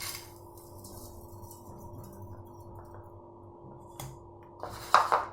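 Coarsely ground homemade biryani masala scraped into a vessel, with a quiet background hum and then a short burst of metal utensil clinks and scrapes close by near the end.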